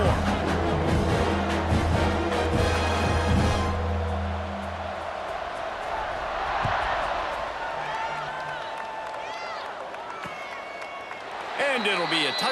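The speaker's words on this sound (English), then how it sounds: "this crowd is buzzing after that last score." Stadium crowd noise hums beneath a college football video game, a continuous murmur and cheer swelling mid-stretch, mixed with game music and effects, while a commentator voice talks over it.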